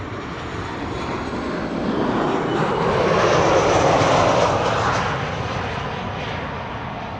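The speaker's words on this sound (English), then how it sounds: "Right now, this is Transavia arriving from Olbia." A Transavia airliner arriving from Olbia at Amsterdam Schiphol Airport passes with a broad engine roar that swells to a peak midway and slowly fades, loud and alone.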